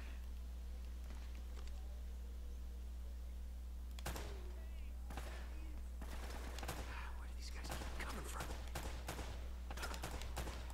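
Sporadic gunfire bursts in Uncharted: Drake's Fortune, sharp shots and short clusters that grow denser midway, over a constant low hum with faint background sounds.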